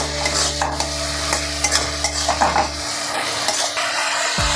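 Brinjal masala with sugar is stirred and sautéed in a pan, a spoon scraping and tapping against the metal over a low sizzle, with a steady hum underneath that cuts out partway through.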